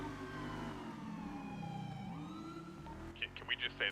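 Police car siren in a GTA roleplay video game: a loud wailing tone rising and falling across several seconds, heard with a voice talking over it, then giving way to short clicky bursts at the end.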